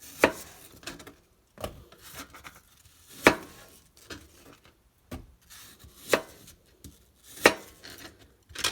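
Knife chopping apples into small pieces on a board: a steady series of sharp, close cuts, roughly one or two per second, alone with no talk.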